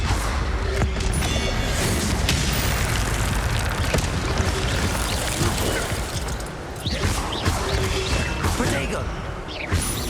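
Fire-spell blasts from Hogwarts Legacy, with the Incendio charm's roaring bursts of flame crackling over a loud, busy battle mix, several surges of crashing noise across the stretch.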